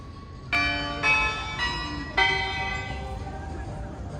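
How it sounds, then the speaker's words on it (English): A clock tower's bells chime outdoors, four clear ringing strikes at a steady pace, each tone sustaining and overlapping as the last one slowly decays over a quiet street background. "Nice to know that the clock's still chimes."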